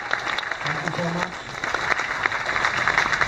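A cruise ship audience on the Star Princess applauds the ship's orchestra, giving steady, dense clapping throughout with a voice briefly audible over it.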